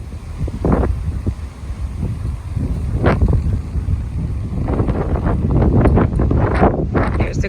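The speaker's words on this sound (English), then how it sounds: "there is just a lot of wind happening out here." Strong wind gusts roar steadily outdoors beside a garden during a windstorm, buffeting the microphone with loud rumbling that swells and eases throughout.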